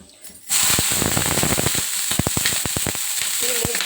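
Oil sizzling in a clay pan on the stove, ready for ragi dosa; after a quiet start it bursts into a loud, close crackle with sharp popping spatters.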